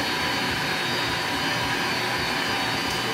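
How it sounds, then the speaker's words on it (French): A kitchen oven switched on and preheating, a steady broadband whooshing hum like a fan running throughout, fairly loud and constant with no voices. "On va commencer par allumer le four. On réchauffe."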